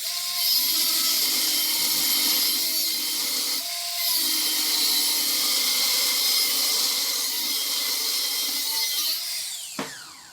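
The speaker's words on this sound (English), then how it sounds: "I'm going to grind this this key down so that it fits in there." A metal key for a hundred-year-old vintage lathe is ground down on a grinder, a loud, sustained high whine with slight pitch dips as pressure shifts, ending in a sudden stop and clunk.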